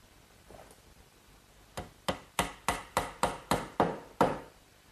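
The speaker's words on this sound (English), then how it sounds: "Now I'll just pin it in place with a couple dowels." Dowels are hammered into a clamped wooden joint: a soft tap, then a run of about nine sharp, evenly spaced blows, close and crisp in a quiet shop.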